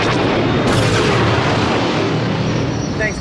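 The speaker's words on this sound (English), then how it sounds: "I love these explosions." Booming space-battle explosions from the Star Wars: Episode IV – A New Hope soundtrack, loud and dense throughout with rumbling blasts and laser-like bursts.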